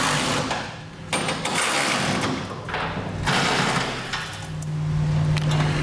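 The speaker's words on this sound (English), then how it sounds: "Then we'll take a 3/4 inch socket and we're going to run these all down and snug them up to the bed" A power tool fitted with a 3/4 inch socket runs flange nuts down on a Curt fifth wheel mounting kit in a 2008 Ford F-250 bed, giving close, buzzing whirs in several bursts with a rising whine near the end.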